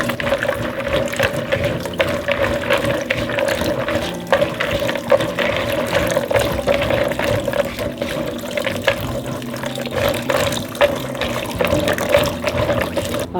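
Water runs continuously from a kitchen tap while pozole ingredients are rinsed, a steady splashing rush with small clatters and sloshes from the ingredients being handled, with no talking.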